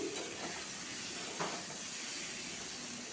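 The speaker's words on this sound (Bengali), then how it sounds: "দেখুন আমগুলো ভাজা হয়ে এসছে এখানে আমি গুড় দিচ্ছি" Mango pieces frying in a pan as jaggery is added, giving a steady close sizzle and hiss with a brief stirring scrape partway through.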